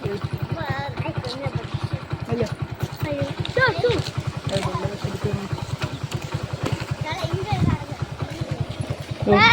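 Motorcycle ridden along a road, its engine pulsing steadily and close throughout, with someone talking over it nearly the whole time.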